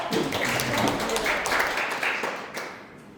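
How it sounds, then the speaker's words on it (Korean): Audience at a Lions Club District 354-B new-member training lecture gives a burst of dense, steady applause that holds for a few seconds and then fades out. "박수 한번 할까요?"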